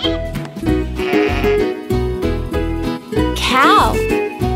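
A sheep gives a wavering bleat over bouncy children's music, after a stretch of narration and tune.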